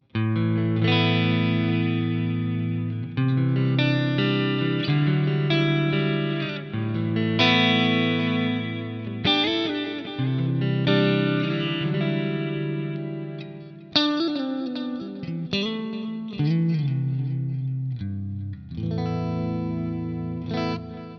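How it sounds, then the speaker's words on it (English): A clean electric guitar through a Quad Cortex with a shimmering chorus effect plays chords and short phrases, ringing and slightly wavering, with no talking. "So just a nice chorusy clean tone"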